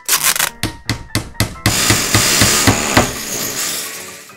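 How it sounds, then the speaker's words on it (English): Hammering in a children's cartoon: a quick series of about eight sharp, evenly spaced knocks, then a denser rattling clatter of building noise that carries on at steady loudness. "He is busy drilling and hammering."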